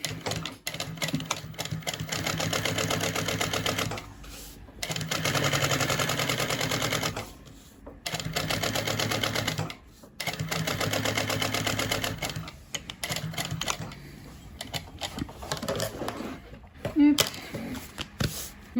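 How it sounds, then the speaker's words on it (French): A sewing machine topstitches the lining of a bag with a long stitch, running in loud, rapid mechanical bursts separated by short pauses, with someone speaking in French between runs. "je vais surpiquer sur la doublure à 3 mm de ma première couture. Et je repasse sur un point long."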